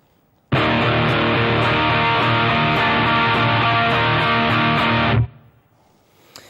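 Electric guitar chords strummed steadily at a slow pace, sustained and distorted, then cut off sharply and left to fade into quiet.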